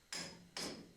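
Two sharp hammer taps drive a splitter into the CV joint of a 1980 Opel Kadett rally car, each strike close and ringing, with a third starting at the end.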